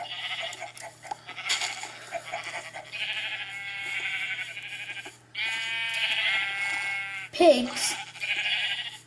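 Sheep bleat in a corral, a series of wavering, nasal calls coming in bursts, some long and drawn out, close and fairly loud with faint background noise between them.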